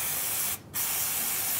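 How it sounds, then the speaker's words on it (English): Liqui Moly Brake and Parts Cleaner sprays from an aerosol can onto greasy, oil-stained parts: a loud, steady close-up hiss runs nearly the whole time, broken by one short pause in the middle. "So just spray it."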